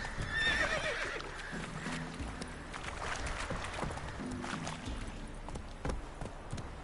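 Roach, a horse in The Witcher 3 video game, lets out a shrill whinny at the start, followed by steady hoofbeats of a gallop over a continuous game soundtrack.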